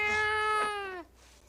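A cat gives one long, clear meow that rises and then falls over about a second before trailing off, close and loud with no voices.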